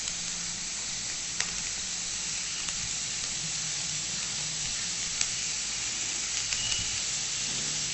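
Mushroom stems, spring onion, capsicum and chilli flakes sautéing in a pan, a steady close sizzle and hiss of frying with a few faint clicks of stirring, continuous and alone without talk.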